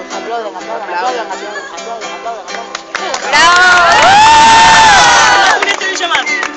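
A large concert crowd cheers and shouts over a live rock band, rising into a loud swell of whoops and screams in the middle before settling back under the music.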